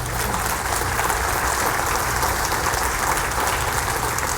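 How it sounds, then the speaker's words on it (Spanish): A church congregation applauds, dense sustained clapping from many hands filling the whole stretch at an even, loud level without a break. "Le damos un aplauso al Rey de Gloria."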